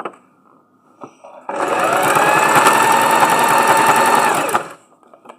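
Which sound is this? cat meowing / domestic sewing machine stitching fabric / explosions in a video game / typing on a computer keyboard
domestic sewing machine stitching fabric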